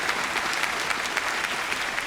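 Steady applause from a table tennis arena crowd at 17-all in the 2016 Japan Open women's singles final, a continuous even patter of clapping with no break across the whole moment.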